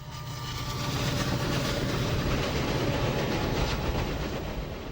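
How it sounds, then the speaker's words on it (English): A Norfolk Southern stone train heading north rolls across the bridge at Walton. Loud, continuous rumble with rhythmic clickety-clack of wheels on rail, close by, with no voices. "the Norfolk Southern puts on its own dramatic rail action show on the bridge at Walton. A train of stone is heading north to Ludlow,"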